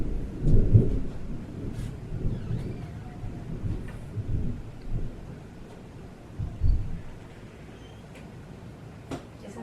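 Thunder rumbles during a thunderstorm, with a loud nearby clap early on, then lower rolling rumbles over steady rain, with no talking.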